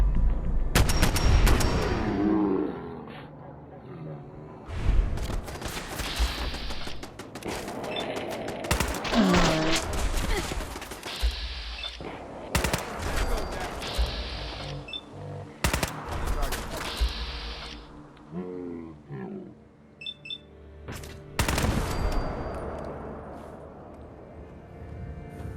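Bursts of gunfire in Fallout 4 as gunners are shot: rapid automatic rattles and single heavy shots come in clusters, separated by brief pauses, with loud impacts and some faint speech in between.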